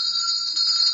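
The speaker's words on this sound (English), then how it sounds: "All the bells ringing this time of night?" Bells ring at night: a bright, steady metallic ringing that holds close and loud through one short second with no break and no talk.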